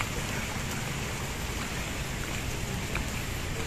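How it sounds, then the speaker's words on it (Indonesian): Light drizzle falls at an ancient stone site in Indonesia, a soft continuous hiss of fine rain with a low rumble beneath, steady and unbroken with no talking. "Ini hujan rimis-rimis."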